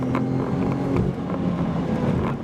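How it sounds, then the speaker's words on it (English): Volvo S60 Polestar engine with a deep, steady exhaust rumble, loud and close, holding an even low drone with slight pulsing and no talking. "You get this sort of deep engine exhaust note"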